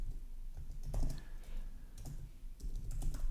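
Close keyboard clatter of someone typing Clojure code on a computer, quick irregular keystrokes in short bursts, fairly quiet and with no talking.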